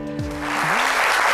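Studio audience on a French midday talk show breaks into sustained applause, a broad steady wash of clapping that starts after a brief musical tone and holds at even loudness.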